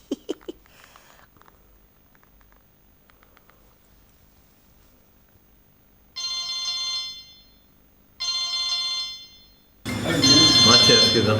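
An outgoing phone call rings back with two identical electronic ring bursts, each about a second long and separated by a short pause, clear and close, followed by a loud burst of voice and music.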